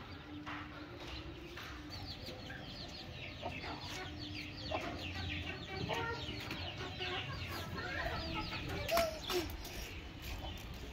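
Aseel hens and chicks, some of them injured, cluck and peep continuously, with busy overlapping calls close by, and a few louder squawks near the end.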